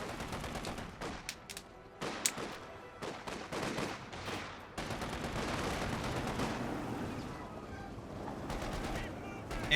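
Machine-gun fire in the Company of Heroes strategy game during a 4v4 battle against German infantry, with sharp rapid bursts early, then continuous rumbling battle noise with scattered shots, at moderate loudness, no talking.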